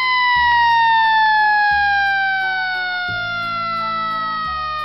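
An ambulance siren wails loud and close, its steady repeating tone sliding slowly downward, with a low rumble pulsing underneath and no talk over it.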